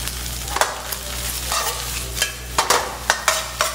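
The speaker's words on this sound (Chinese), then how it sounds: "葱白洋葱丁下来， 好，这时候可以开大火" Scallion whites and diced onion are stir-fried in a wok while fried rice is made, with a steady close sizzle broken by quick, irregular scraping and tossing strokes of a spatula that grow more frequent toward the end.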